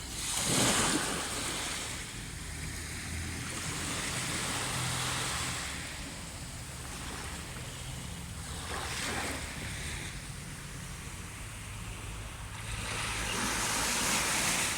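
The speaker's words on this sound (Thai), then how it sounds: "วางเสียงคลื่นนะครับ ดูคลื่นสวยงามมาก" Ocean waves break and wash up on the beach at Bang Po, Koh Samui, in a steady roar of surf that swells and eases every few seconds, with some wind buffeting the microphone.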